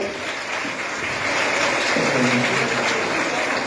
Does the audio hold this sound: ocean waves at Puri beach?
no